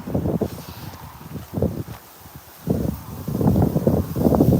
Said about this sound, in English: It's really windy today.